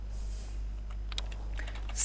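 Quick keystrokes on a computer keyboard while renaming an object in ZBrush during a sword-modeling session, light scattered taps with a few louder clicks near the end, close and fairly soft, no talking.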